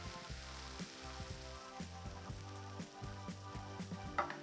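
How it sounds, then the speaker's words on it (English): Chicken stock sizzles as it deglazes a hot pan and reduces, a soft, continuous bubbling hiss with occasional small pops and stirring, close but fairly quiet, with no voices. "A little bit of chicken stock, just to deglaze our pan."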